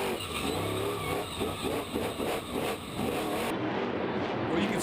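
Gravedigger monster truck engine revs at a Monster Jam freestyle event in Chase Field, Phoenix, a rough roaring throttle surging and pulsing amid crowd and arena noise, fairly distant and muffled.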